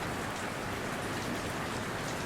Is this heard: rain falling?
yes